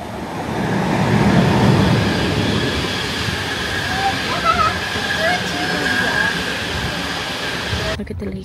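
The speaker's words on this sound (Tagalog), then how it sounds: "yeah, there's a train track" A train rumbles past close by on a track near a bridge and lake on a trip from London toward Zurich, a broad steady roar with faint squealing tones while people talk over it.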